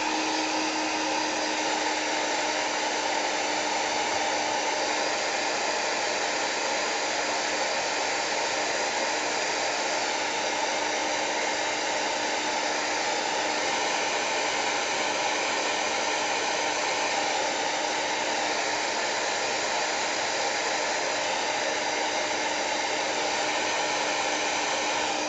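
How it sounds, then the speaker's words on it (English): A handheld dryer blows continuously to dry a craft project, a loud, steady, close airy roar with a constant hum and no variation for the whole stretch. "Now I'm going to dry a little bit so that we can add a little bit of dimension"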